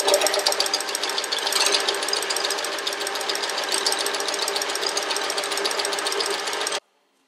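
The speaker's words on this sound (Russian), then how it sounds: "подгибаю вот так на 2 сантиметра и прошиваю на машинке" A sewing machine stitching a hem on cotton fabric for a child's dress runs loud and steady with a fast, even rattle for about seven seconds, then stops abruptly.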